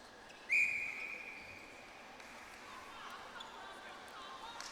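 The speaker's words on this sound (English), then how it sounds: "Bit of aggressive whistling there." Referee's whistle at an international netball match between Singapore and Ireland, one sharp shrill blast that trails off, heard over steady crowd noise in an indoor arena.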